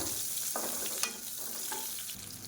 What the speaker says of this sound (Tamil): பொடியாக நறுக்கின வெங்காயம் சேர்த்துக்கலாம்.